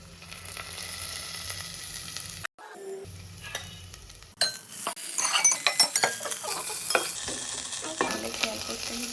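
Spice paste with green chilli frying in a pan, a dense sizzle broken by a brief silence, then louder stirring with scraping and clinks of a utensil against the pan.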